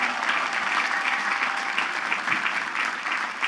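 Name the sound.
audience applause for armed forces members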